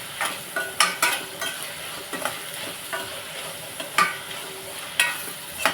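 Onions and raw prawns frying in a pan for a prawn curry, with a soft continuous sizzle under repeated sharp scrapes and clinks of a spoon stirring against the pan, heard close with no talking.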